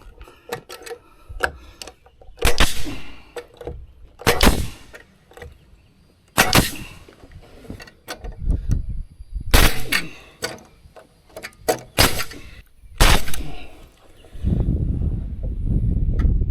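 A nail gun fires into floor joists during framing work with piers and girders, giving sharp close bangs in irregular bursts, several coming as quick doubles, with quieter handling noise between shots.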